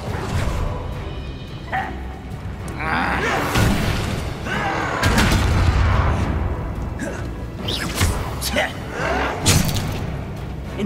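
Loud fiery spell blasts from an Incendio fire charm in a magical duel, several heavy booming thuds and whooshing bursts spaced over about ten seconds, mixed with voices and battle clamor.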